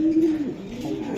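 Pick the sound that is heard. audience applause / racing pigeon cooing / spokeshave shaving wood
racing pigeon cooing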